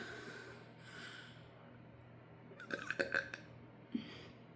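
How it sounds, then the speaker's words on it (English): A person gives a short burp: a brief cluster of throaty pulses up close, then a smaller one after it, set against quiet background noise and faint breathing. "I burped."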